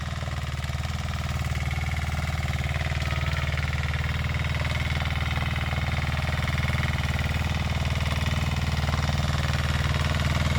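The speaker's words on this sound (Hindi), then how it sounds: "इसमें पावर टिलर चला रखा है।" A diesel-engine power tiller runs in a sugarcane field planted in wide rows, its loud, constant mid-pitched chug holding steady for about ten seconds with no talking.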